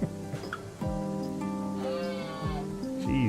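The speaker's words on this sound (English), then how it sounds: "Hey, listen, that is a moose." Moose calls in the RimWorld video game: a few close, drawn-out bleating groans with falling pitch, over steady rain and background game noise.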